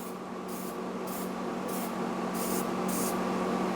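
Spray paint hisses in a steady, close stream over a weld, broken by about six short, brighter bursts from the nozzle, with no talking.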